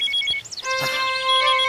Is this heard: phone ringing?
yes